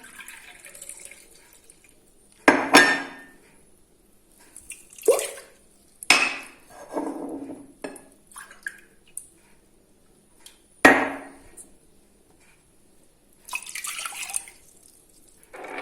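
Water poured into a bowl for banana zlabia dough, heard as a few short splashing, dripping bursts separated by quiet gaps, close and clear with no talking.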